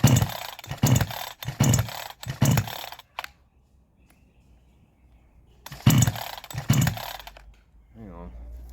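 A 62cc Chinese chainsaw is pull-started several times in quick bursts without catching. Each tug gives a loud rasping rattle, followed by a long quiet gap and then two or three more pulls.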